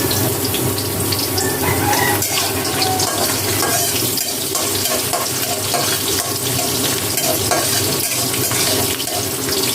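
Sliced onion and garlic sizzle steadily in hot oil in a pan, a continuous, close, fairly loud crackling hiss that holds without pause.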